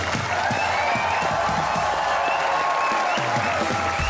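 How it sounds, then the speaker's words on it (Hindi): A studio audience at a comedy talk show bursts into loud, continuous applause with some cheering as guests arrive, dense and unbroken throughout. "तो तालियों की ऊंची होगी आवाज।"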